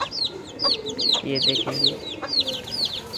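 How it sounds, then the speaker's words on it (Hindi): An Aseel hen clucks in a backyard coop among her four chicks, a series of short, close clucks and chirps over a busy bird background while someone speaks briefly. "इसके चार चिक्स हैं, असील है माशाल्लाह, बहुत प्यारी मुर्गी है।"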